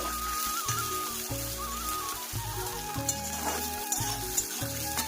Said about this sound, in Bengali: এবার পেঁয়াজটা ভালো করে ভেজে নেব